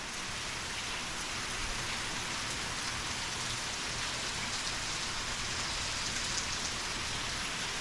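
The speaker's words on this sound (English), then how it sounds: "A nice, slow, steady rain." Slow, steady rain falls on a Bermuda grass lawn, a continuous even hiss of drops with no gaps, no voices and no change in intensity.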